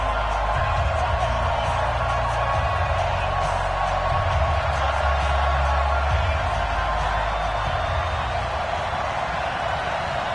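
Stadium crowd at an NFL game between the London Bulldogs and Dallas Cowboys in a football video game, a steady roar of cheering with a low rumble underneath, continuous and loud across the whole stretch without letup.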